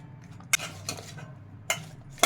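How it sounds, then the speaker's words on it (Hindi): A metal spoon clinks against a pot or bowl while ginger garlic paste, black pepper powder and salt are stirred together, giving a few sharp, close taps with quiet gaps between them. "चम्मच से मिला देंगे"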